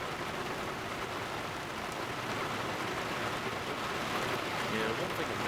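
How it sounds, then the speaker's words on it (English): Steady rain hisses and patters across surfaces in Arma 3 during a zombie operation, an even, moderately quiet wash of drops with faint voices mixed in. "The rain's so sad."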